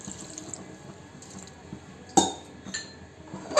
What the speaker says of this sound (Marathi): थोडंसं पाणी घालायचं शिजण्यापुरतं